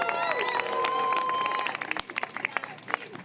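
A rally crowd applauds and cheers, a dense wash of clapping with shouts and whistles that thins into scattered claps, while a voice cuts in partway.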